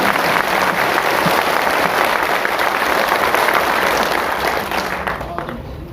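Loud, sustained clapping from a big audience at an All India SC/ST Railway Employees Association meeting fills the hall, then begins to thin and fade near the end.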